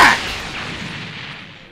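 Big Bang Attack energy blast in Dragon Ball Xenoverse 2, a sharp booming burst that decays into a long fading rumble, heard alone without talk.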